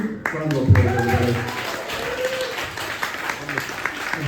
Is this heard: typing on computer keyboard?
no